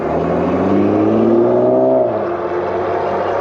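Electric bike riding on its rear motor: a loud, close motor whine with layered tones that climb in pitch, then ease back down over steady road and wind rumble, with no voices.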